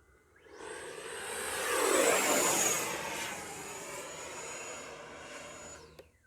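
A Horizon Hobby F-18 Blue Angels RC jet with an 80mm electric ducted fan flying slowly, its whine building as it passes close, peaking midway, then fading into the distance.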